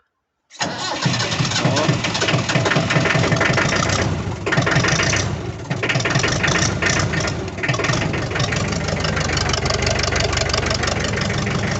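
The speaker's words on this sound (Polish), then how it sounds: "I tu chyba silnik Perkins." The Perkins diesel engine of a David Brown 996 tractor turns over and settles into a steady, loud idle with a rumbling, continuous drone.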